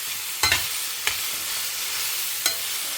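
Jackfruit palya sautéing in a pan with a steady, soft sizzle throughout, broken by three sharp scrapes or clinks of a spoon stirring it.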